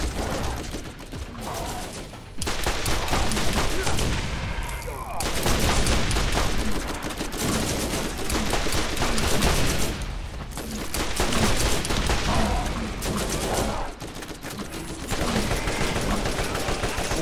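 Rapid, sustained gunfire from a low-damage, high-capacity weapon in the PC shooter Borderlands, dense bursts of shots running nearly the whole time with brief lulls, loud and close.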